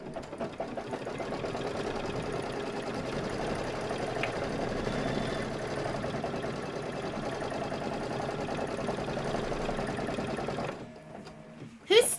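A domestic sewing machine runs steadily for about eleven seconds, stitching a tack-down line on fabric for a Cup of Cheer sew-along block, then stops, followed by a brief clunk at the end.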